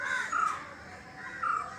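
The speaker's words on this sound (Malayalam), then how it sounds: "കോഴി ശബ്ദവും കാക്കയുടെ കരച്ചിലും പക്ഷികളുടെ കരച്ചിലുമൊക്കെ കേൾക്കുന്ന" Crows cawing at dawn in a rural outdoor setting, a few harsh caws in two short bursts over a steady background of birdsong and ambience, fairly close.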